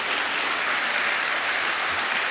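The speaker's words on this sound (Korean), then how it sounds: "올라오실 때 박수로 환영해 주시기 바랍니다" A church congregation applauds as a pastor comes forward to be appointed, a dense, even, continuous clapping that fills the room loudly from start to end.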